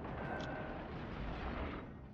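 A deep, rumbling explosion in World of Warships that rolls on and slowly fades, heavy and muffled with no voices over it.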